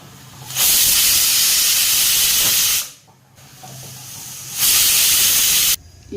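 A pressure cooker on a gas stove hisses steam in two long, loud bursts separated by a quieter pause, with no voices.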